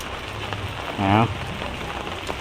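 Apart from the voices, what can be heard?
rain falling at an evening market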